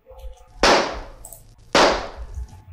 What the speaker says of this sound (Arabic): طلق رصاص